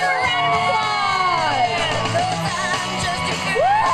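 A crowd at a Relay For Life pageant event in Pickens cheers, whoops and yells continuously, with children's shouts and excited voices rising over the steady roar, loud and close.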